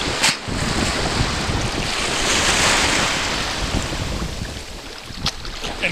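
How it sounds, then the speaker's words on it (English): Rough Atlantic surf with a strong undertow roars continuously on a windy beach, loud and close, with wind buffeting the microphone and no voices. "Some nasty surf here. It's got a bad undertow."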